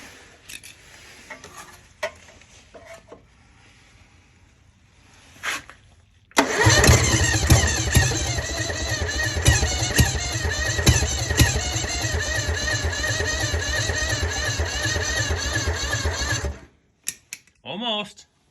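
A repowered Lahman mini skid steer engine, started with a jumper cable on the starter and no choke fitted, cranks and catches into a loud, rattling mechanical run for about ten seconds before cutting off, with scattered clicks and handling noises before and after.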